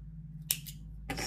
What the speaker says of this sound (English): Snip.